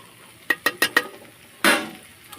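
Tomato sauce going into Maggi pasta, then stirring: four quick, sharp squirting or tapping hits in a row, a short pause, and a longer wet squelch of mixing, close and clear with no talking.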